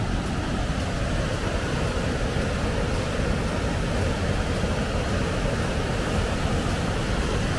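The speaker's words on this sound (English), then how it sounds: "So here's the top of the Bow Falls right here." Rushing water at the top of Bow Falls in Banff, Canada, where the rapids begin, gives a continuous loud, broadband roar that stays steady from start to finish, with no voices.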